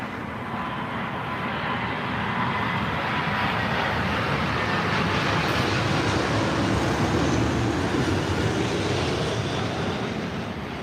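An American Airlines Boeing 777 from Dallas passes at London Heathrow, a loud continuous jet roar that swells and holds steady without breaks, with no voices over it.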